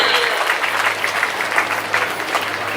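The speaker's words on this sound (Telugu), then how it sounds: "మనమందరం గట్టిగా చప్పట్లు కొట్టి వారికి మనం గౌరవాన్ని తెలియజేయాలి" An audience at the Second International Telugu Mahasabha claps warmly, a dense, sustained burst of applause from a large crowd filling the hall.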